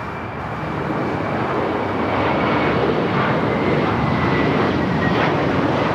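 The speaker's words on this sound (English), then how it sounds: "Next takeoff is a flight heading to Dallas, Fort Worth, Texas. American Airlines Flight 2091. It's a 10-year-old A321." American Airlines Airbus A321, about ten years old, on its takeoff roll at LAX, a broad jet roar swelling and holding steady at moderate distance with no voices.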